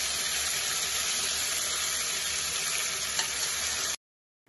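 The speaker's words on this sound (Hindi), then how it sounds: "प्याज को चलाते जाएंगे और इसे अच्छे से भूनेंगे।" Ground onion paste and cumin frying in oil, stirred steadily: a dense, continuous sizzle held at one level for about four seconds, then cutting to silence.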